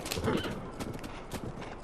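Horse hooves gallop in Zelda: Breath of the Wild, a steady clip-clop rhythm running throughout at moderate level with a brief neigh-like swell early on, no talking.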